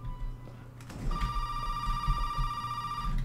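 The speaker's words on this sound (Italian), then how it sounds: "Una telefonata." A telephone rings inside the Resident Evil 7 video game, a steady electronic ring that starts about a second in and holds as a sustained tone, clear over a low background hum with no talking.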